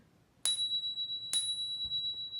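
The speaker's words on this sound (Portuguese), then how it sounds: "eu costumo usar esse sino, tá, para demarcar o início com uma batida" A meditation bell rings with a bright metallic strike that lingers in a long, sustained tone, then a second strike rings out about a second later, both clear and close.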